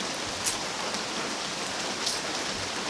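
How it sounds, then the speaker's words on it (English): Steady rain falls outside after days of downpour, a dense even hiss of drops on surfaces filling the whole stretch with no pauses. "It's been raining for a couple days."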